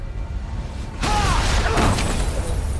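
A car explodes in the video game Resident Evil 2: a sudden loud, broad blast about a second in, followed by a sustained roaring rumble with faint whistling debris that holds steady to the end.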